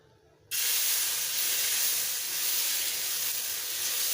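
Dosa batter hits a hot tawa for a masala dosa: a sudden, loud burst of sizzling hiss starts after a moment of quiet and then holds steady.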